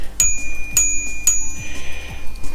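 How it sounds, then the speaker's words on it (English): Bicycle bell on a Cannondale Topstone gravel bike, rung three times in quick succession with bright, ringing metallic dings, followed by a couple of softer ticks, close and clear with no talk. "secretly hiding a bell there"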